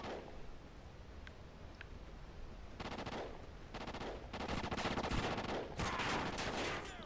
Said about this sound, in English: Jeez, I hear gunshots.